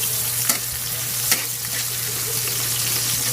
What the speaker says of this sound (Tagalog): Huwag masyadong i-brown yung bawang kasi